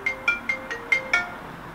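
A phone ringtone plays a short repeating electronic melody of bright tones in rapid, evenly spaced pulses, fairly close and clear, with no talking over it.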